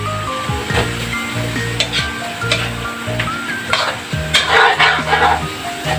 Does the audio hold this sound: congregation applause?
no